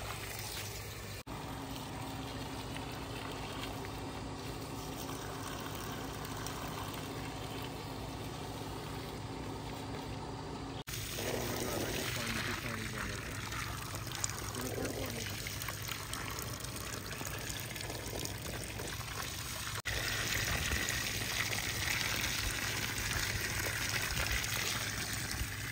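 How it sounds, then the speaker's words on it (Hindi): Water poured onto freshly replaced soil around a tree trunk, a steady continuous wash and trickle that runs for the whole stretch, fairly close and strong, with no talk over it. "अब थोड़ा सा पानी डाल देते हैं ताकि अच्छे तरीके से मिट्टी जो है वो बैठ जाए"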